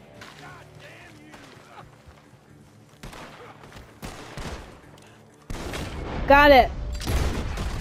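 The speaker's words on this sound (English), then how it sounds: "Gunshots are coming from that barn." Gunfire rings out from a barn in Red Dead Redemption 2, with scattered shots and bursts at a distance that grow louder and denser toward the end, mixed with game sounds and a brief spoken reply.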